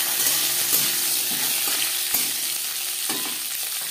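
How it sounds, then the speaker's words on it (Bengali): Bitter gourd frying in oil with whole cumin and green chilies, a steady close sizzle with occasional stirring knocks, no voices. "জিরে কাঁচা লঙ্কা ভেজে নেওয়ার পর দিয়ে দেবো উচ্ছে"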